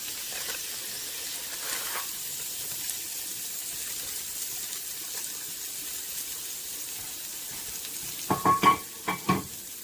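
A smashburger patty is pressed flat on a hot griddle and sizzles in a steady, even hiss, with a few sharp scraping knocks from the spatula near the end.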